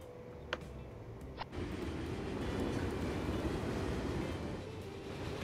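A train rolls along in the video game Transport Fever 2, a steady rumbling rail noise with faint clickety-clack, preceded by two brief clicks, moderately quiet and continuous with no talking.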